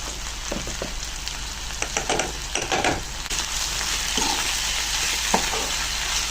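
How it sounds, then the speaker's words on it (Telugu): Onion pieces with salt fry in a pan for an okra stew, giving a loud, continuous sizzle with scattered scraping and stirring knocks early on. "ఉల్లిపాయ ముక్కలు కొంచెం వేగిన తర్వాత దీనికి సరిపడినంత సాల్ట్ని వేసుకున్నాము."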